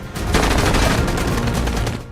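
Dense, sustained gunfire during the Pahalgam terrorist attack, a loud continuous volley of overlapping shots filling the whole stretch with no pause and no voices.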